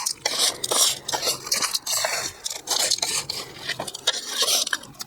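Old potting soil mixed with chunks of granite being stirred in a pot, giving a gritty scraping and clattering of stone against the container in uneven bursts, close and fairly loud, with no talking.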